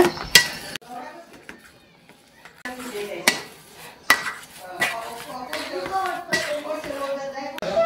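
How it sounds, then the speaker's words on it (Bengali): Boiled potato being mashed in a metal bowl for a kidney bean curry and kebab: repeated sharp clinks and scrapes of utensil against dish in irregular bursts, with quieter pauses between. "তাই আলুটাকে ম্যাশ করে নিচ্ছি।"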